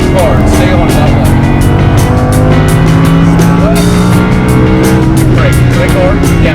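A Lamborghini Huracan accelerates hard around a race track. Its engine roars loud and close with tire squeal, while a voice talks over the noise.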